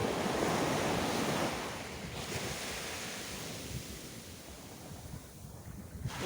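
Sea waves wash onto the shore in a broad, surging hiss that swells loudly at first and then eases, with wind buffeting the microphone.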